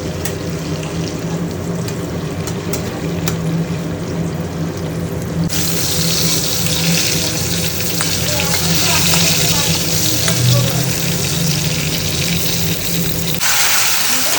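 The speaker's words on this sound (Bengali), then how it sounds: "ভাজাভুজি করতে করতে কড়াইটাকে কিভাবে আমি পুড়িয়ে ফেললাম।" Food frying in a kadai (wok) gives a loud, continuous sizzle that holds steady throughout, with brief stirring noises and no speech.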